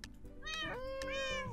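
A Minecraft cat gives a single drawn-out, rising-then-falling meow, close and clear, alone over faint background game sound.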